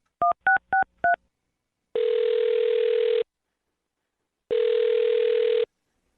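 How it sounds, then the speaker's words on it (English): Four quick dialing tones beep in rapid succession, then two long steady ringback tones sound with a pause between them, clear and close. "I'm going to dial her phone number right now"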